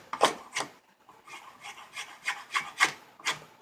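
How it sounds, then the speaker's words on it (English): A draw knife shaves walnut wood while carving a spoon, giving a series of rasping, scraping strokes in an uneven rhythm, close and fairly loud, with no talking. "versatility of a draw knife. You can take very thick shavings, and then you can go very fine."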